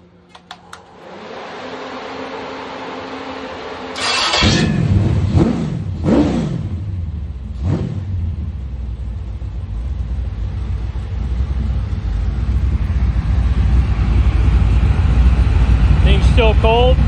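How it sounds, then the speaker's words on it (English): A 400-horsepower 350 small block Chevy V8 cranks and fires up, a few sharp revs follow, then it settles into a steady, loud cold idle near 900 RPM. "Go ahead and fire this thing up so you guys can hear it run."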